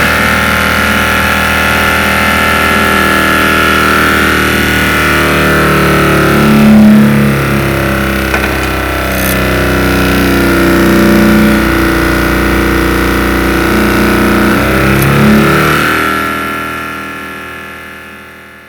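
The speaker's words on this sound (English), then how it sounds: "I'm going to turn on the pump and then I'm going to close the valve" A pump runs steadily with its valve closed and builds toward high pressure, giving a constant mechanical hum and whine with a few brief louder surges, then fading toward the end.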